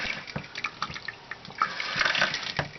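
Dirty water running from a faucet into an RV sink, a quiet, close splashing trickle with uneven gurgles and drips, growing slightly fuller toward the end.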